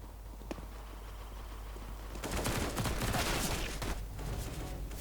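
Gunfire in CS GO erupts in a rapid burst of shots, a dense crackling volley lasting a couple of seconds and then tapering, loud and close in the game mix.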